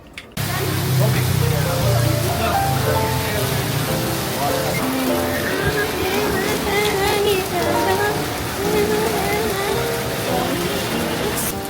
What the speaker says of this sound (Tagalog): ba't ang taba po ng patak ng ulan niya dito? Parang ang tataba ng mga beads niya.